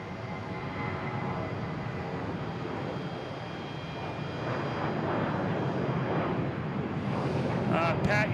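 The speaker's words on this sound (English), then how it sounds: "Is JetBlue heading to Denver," JetBlue Airbus A320 airliner at Boston Logan, a rising jet engine roar with whining tones, buffeted by wind noise on the microphone, growing louder toward the end.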